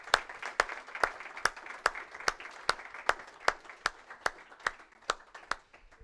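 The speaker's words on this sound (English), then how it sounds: "Another round of applause, please." Applause made of sharp, evenly spaced claps in a steady rhythm, moderately faint, with no talking.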